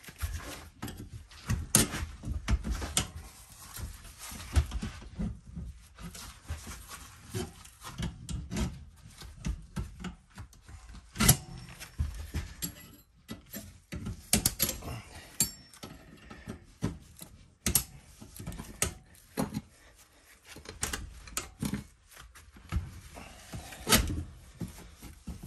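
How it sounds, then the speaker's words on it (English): Metal springs being popped and worked on a Duke 850 foothold trap, close-up scraping, rubbing and sharp mechanical clacks scattered irregularly over a quiet background, no voices. "let's pop these springs."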